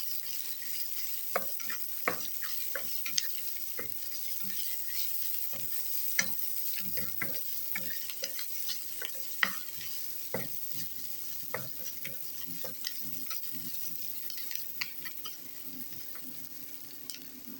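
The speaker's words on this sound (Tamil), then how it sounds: "தக்காளி வெங்காயம் வதங்கணும்" Tomato and onion sautéing in a pan for a spicy dal curry: a constant low sizzle broken by frequent sharp ticks and scrapes of a spoon stirring against the metal, close and without speech.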